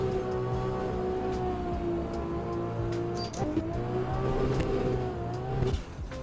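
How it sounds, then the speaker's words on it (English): A Toyota GT86 drifts in a racing video game, its engine revving loudly and steadily with shifting pitch, brief tire squeals and a sharp wall tap midway, all without talking. "This GT86 is kind of difficult to drive actually."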